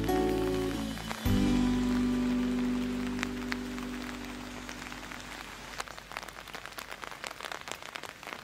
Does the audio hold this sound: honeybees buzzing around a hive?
no